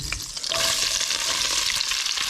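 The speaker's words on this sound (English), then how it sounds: "we're reducing the heat to medium, and we're going to add in our onions, the yellow onions, not the pearl onions yet" Yellow onions sautéing in a pot over medium heat for beef bourguignon, a steady close sizzle with light stirring throughout.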